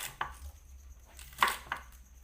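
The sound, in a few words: cabbage being sliced into squares with a knife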